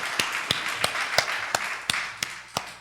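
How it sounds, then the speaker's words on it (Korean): Congregation clapping during a Sunday church service, heard as about nine evenly spaced sharp claps in a slow, steady rhythm, fairly faint against a quiet room. "이렇게 하면서 박수 한번 치죠."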